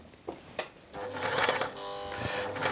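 A Tony CM 500 sewing machine stitches fabric with a skip-stitch setting, starting with a couple of soft clicks, then running with a steady close-up mechanical whir and rapid rhythmic needle chatter.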